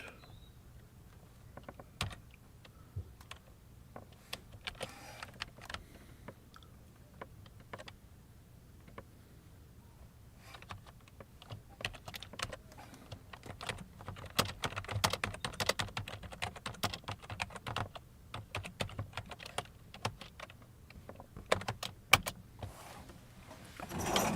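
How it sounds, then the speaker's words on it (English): Typing on a computer keyboard, with quiet, irregular key clicks that cluster into busier bursts midway, recorded close up in an otherwise quiet room. "I'm typing it into ChatGPT"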